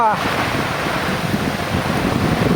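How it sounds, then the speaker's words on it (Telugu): Strong wind from the south sweeps across a farm garden during a heavy rainstorm, a loud, steady roaring rush that fills the whole clip close to the microphone. "దక్షిణ వైపు వచ్చి ఒక గాలి పడుతుంది"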